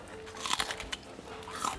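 Someone bites and chews a raw onion, producing several sharp, close crunches in quick succession followed by quieter chewing crackles.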